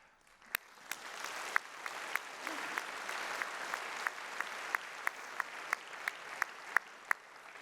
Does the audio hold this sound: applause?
yes